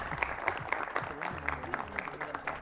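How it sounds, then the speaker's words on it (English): Light applause from a small group of quiz contestants and audience at a school safety science quiz semi-final, steady patter of hand claps with a faint voice or two beneath. "why don't you give yourselves a round of applause?"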